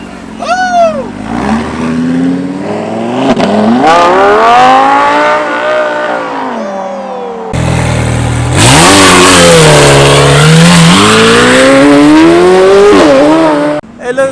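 A car revs hard while spinning donuts at a street car meet in Houston, its engine pitch rising and falling in long sweeping waves, very loud and close, with tire-squeal-like whines and a crowd behind it.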